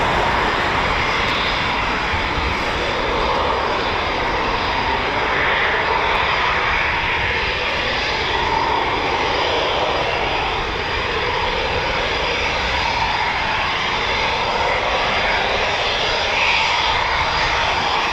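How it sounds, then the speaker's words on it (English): Eurofighter Typhoon FGR4 jet engines spooling at RAF Coningsby, a steady, loud, continuous broadband roar that holds for the whole stretch with no talk over it. "I can still hear Typhoon spooling, so we're going to get a few more departures by the sound of it anyway"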